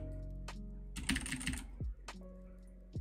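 A short flurry of computer keyboard key presses, close and fairly soft, flanked by a few isolated clicks and low background hum, with no talking.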